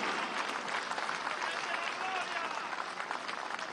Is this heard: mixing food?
no